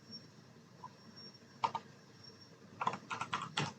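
Computer keyboard typing while writing Node.js file-system code, a few short clusters of crisp close keystrokes separated by quiet gaps.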